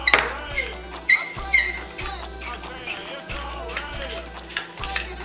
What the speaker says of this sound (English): So you just take that there, place it in, and just screw it on.